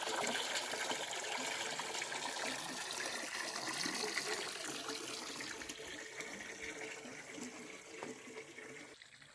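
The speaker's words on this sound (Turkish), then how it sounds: "Motorsuz öz axarı ilə çıxan suyu var, yəni motorsuz çıxır." Spring water running freely from a natural outlet without a pump, at a rural house in Balakən, a steady broadband rush and trickle close by that eases slightly toward the end, with no talking.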